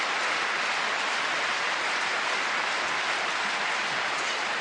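Crowd applause for a table tennis point at the 2017 World Championships in Dusseldorf, dense sustained clapping filling the whole hall, steady and even.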